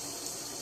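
Cold water pouring steadily from a tap for a soap-making and glue mixture, a continuous close hiss with no pauses or other sounds.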